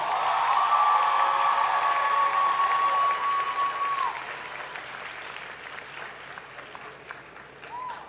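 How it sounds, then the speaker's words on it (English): Audience applause at a university graduation ceremony for the Faculty of Social Sciences, loud and steady at first, then thinning out after about four seconds into scattered claps; a sustained whistle-like tone runs through the early part. "Let's give them a resounding round of applause."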